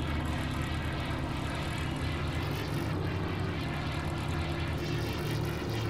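A propeller plane engine drones loudly and continuously in Battlefield 1943 on the Iwo Jima map, a dense, steady roar with no pauses and no voices.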